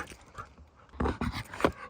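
A tired puppy pants close up, quick breathy huffs that grow louder and more rapid in the second half, with no talking.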